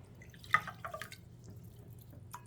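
Fizzy water poured into a berry drink, heard as faint, close, irregular drips and small splashes in a quiet room.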